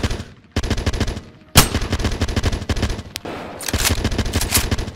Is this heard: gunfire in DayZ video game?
yes